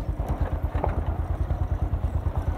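Honda XR motorcycle engine running on a steep off-road mountain track in Khotang, a steady close, rumbling pulse with rapid firing beats and some clatter throughout.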